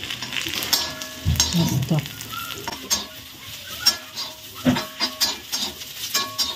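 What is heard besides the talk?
sautéing garlic, peanuts, sesame and ginger in a pan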